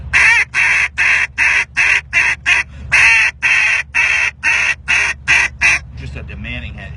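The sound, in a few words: duck call imitating hen mallard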